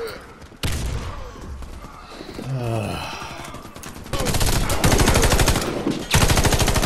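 Rapid automatic gunfire bursts from the first-person shooter Warface, loud sustained rattling volleys with a brief lull between strings of shots, heavy and close.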